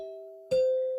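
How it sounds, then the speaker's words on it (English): The NBC broadcast chimes ring out as clear, sustained bell-like tones, with a new note struck midway over a lingering earlier tone, close and clean with no talk. "yes, those are the NBC chimes"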